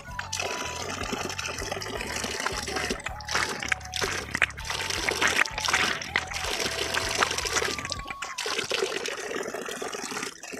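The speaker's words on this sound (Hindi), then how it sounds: "देखो पानी आ रहा है टैप से सप्लाई पानी।" Supply water runs from a household tap into a cooking vessel, a steady close splashing trickle that continues throughout with no talking.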